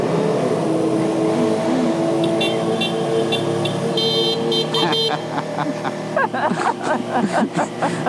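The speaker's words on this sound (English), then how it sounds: "motorcycle horn sounds so stupid" Short horn toots, apparently from a motorcycle, ring out over steady road and engine noise while riding near Rattlesnake Mountain Tunnel in the Smoky Mountains, with several quick honks clustered toward the end.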